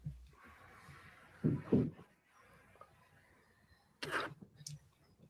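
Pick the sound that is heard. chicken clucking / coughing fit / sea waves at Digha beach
coughing fit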